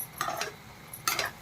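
Tomato thokku pickle stirred in a pan, two short scraping bursts of a spoon against the metal with a pause between, close and fairly quiet.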